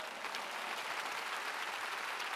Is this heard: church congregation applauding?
yes